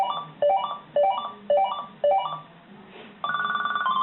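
Buzzer alarm ringtones from a Cobalt Speechmaster talking calendar clock: four short rising beeping chirps in quick succession, a brief hiss, then a steady rapid buzzing tone, loud and close.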